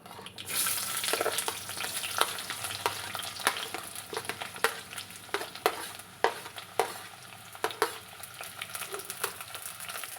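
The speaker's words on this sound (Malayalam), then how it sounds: "കടുക് പൊട്ടി, നമുക്കിനി ഉള്ളി ഇട്ട് കൊടുക്കാം." Onions frying in hot oil just after mustard seeds have popped, cooked for an egg kurma curry: a steady close sizzle with sharp spoon-stirring scrapes and clicks throughout, no voices.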